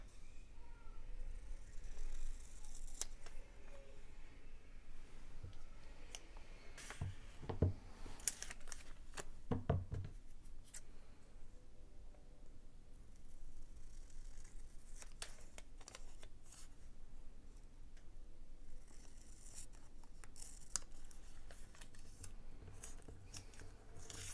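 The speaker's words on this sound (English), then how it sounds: "let's cut this right here" Scissors snipping through material at a desk, a run of crisp cuts with a couple of louder clipped strokes around the middle, close and fairly quiet over a steady background hiss.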